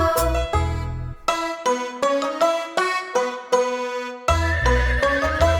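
A musical track of repeated neigh-like calls, bright pitched whinnies in short bursts with instrumental backing, like a toy or song imitation of a horse.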